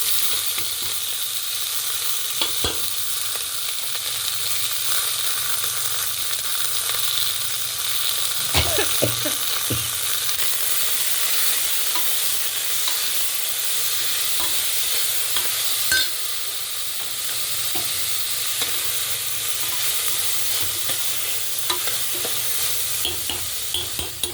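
Soaked chana dal and curry leaves fry in a pan with dried red chillies and cumin, a loud continuous sizzle running throughout, with occasional scraping stirs and small pops over the top.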